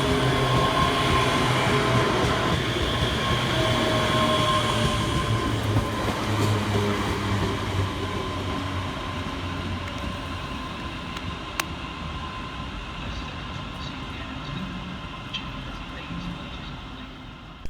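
A ScotRail Class 385 electric multiple unit arrives at Paisley Gilmour Street station, a loud rumbling, whining approach with steady wheel and motor noise that gradually eases as it slows, with some voices faintly underneath.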